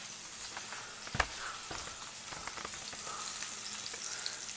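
Chicken fried steak crackling in hot oil in a pan, a steady soft sizzle with scattered pops and one sharper spatter, continuous and close.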